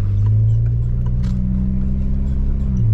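A Citroen DS4 tuned to Stage 2 accelerates, its engine droning loud and close in a steady, slowly rising hum for about three seconds with no talking.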